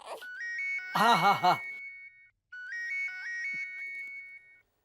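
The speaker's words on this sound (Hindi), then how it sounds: "फोन बज रहा है आपका।" A melodic electronic ringtone plays twice, a bright repeating tune with a short pause between, while a voice briefly talks over the first part.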